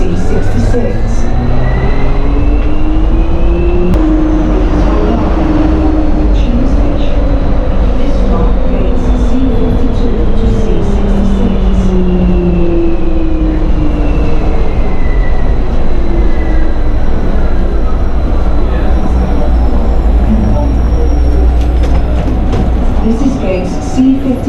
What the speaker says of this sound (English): Please hold on. Transit is departing.